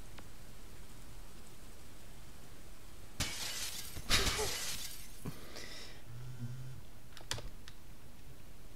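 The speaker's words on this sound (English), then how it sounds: "Did you just get thrown out of a plate glass window?" Plate glass window shattering in the video game Gunpoint: a sudden loud crash with bright crackling debris, a second burst close behind, then scattered tinkling fragments and a few sharp clicks, with no talk.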